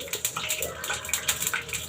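Water drains off freshly washed, cut eggplant in a home kitchen, a brief close patter of trickling drips and small splashes.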